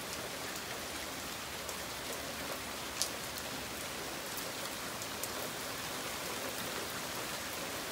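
Night rain pours down in a constant, full hiss across nearby surfaces, unbroken and fairly loud, with a few crisp individual drops and one sharper splash cutting through.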